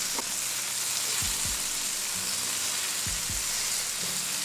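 Sliced leek fries in a pan, a soft, constant sizzle running underneath, with a few low knocks and scrapes from stirring and turning the pieces at irregular moments.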